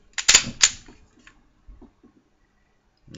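Glock 19 Gen 4 pistol being cleared: two sharp, close metallic clacks in quick succession, followed by a few faint handling clicks and quiet.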